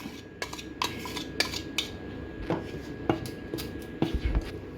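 Egg mixture worked into rice flour in a bowl produces a series of light clinks and scrapes of a utensil against the bowl, irregular and close, with quiet background between strikes.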